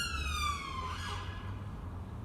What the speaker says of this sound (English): Sirens now, there's just a big emergency.